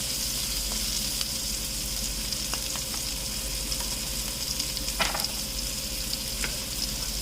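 Salmon sears in melted butter in a hot pan, giving a steady close sizzle with faint spoon scrapes and a brief louder spatter, with no voices.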